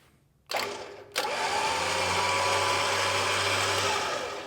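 A Warn 12,000 lb electric winch motor starts with a sharp jump, then revs up and runs as a steady loud whirring drone with a low hum underneath, holding for several seconds close by.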